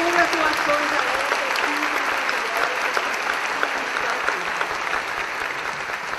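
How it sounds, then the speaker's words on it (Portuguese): Conference audience applause fills the hall at a Spiritist congress, a dense, continuous roar of many hands clapping that stays strong and steady throughout. "Então, muitas palmas, muitas congratulações a elas."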